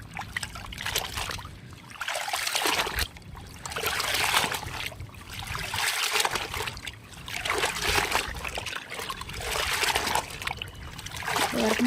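Cotton nighties washed by hand in water, repeated sloshing and splashing swells in a steady rhythm, close and fairly loud throughout.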